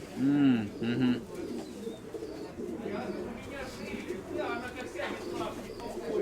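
Pigeons coo in low, rounded bursts near the start, followed by softer bird calls amid background chatter and movement.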